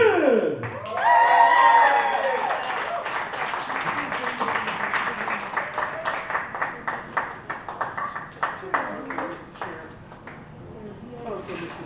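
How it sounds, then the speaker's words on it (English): An audience at a poetry slam applauds a poet as a voice introduces the performer, with the clapping swelling quickly and then sustaining as dense, steady crowd applause with some cheers before it gradually thins out. "please give a huge round of applause to the Bars Kid!"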